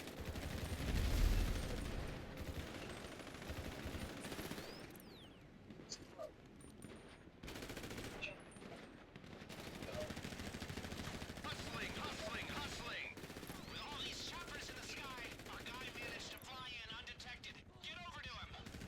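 Gunfire and grenade blasts during a GTA Online mission to rescue Agent 14, with bursts of shots and explosions rattling over busy game noise while players talk throughout.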